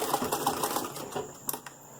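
A sewing machine zigzag bar tacking on a knitted garment, a quick, quiet run of rapid needle strokes that slows and stops after about a second, followed by a couple of faint clicks.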